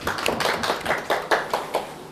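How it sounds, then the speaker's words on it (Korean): A small audience claps for about two seconds at the start of a Korean real-estate licensing law lecture, with sharp, fairly close claps that come in an uneven, loose rhythm and no talk over them. "박수 한번 쳐주시고"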